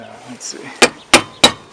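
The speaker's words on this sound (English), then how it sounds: "just get in there with the mallet, just tap a little bit" Four sharp metallic mallet taps on the rear brake caliper of a Subaru Impreza, evenly spaced and close, following a short spoken remark.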